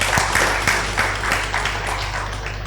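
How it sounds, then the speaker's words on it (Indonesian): A live event audience applauding, a moderate, steady patter of many hands clapping that gradually softens, over a constant low hum. "mari kita berikan tepuk tangan yang meriah untuk kita semua"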